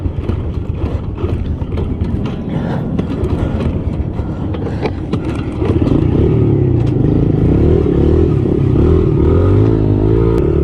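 A trail motorcycle rides along a forest trail, its engine a loud, continuous mechanical drone that swells even louder and steadier partway through, with no talking.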